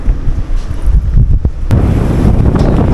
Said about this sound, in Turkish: Fena rüzgar var Maku'da.